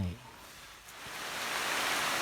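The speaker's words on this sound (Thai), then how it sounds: "ตอนนี้ก็ฝนตกแล้วนะคะ ได้ยินเสียงฝนกันไหมคะ" Rain falling outdoors in a rural mushroom-foraging spot, a steady broadband hiss that swells and grows louder over a couple of seconds after a brief low thump at the start.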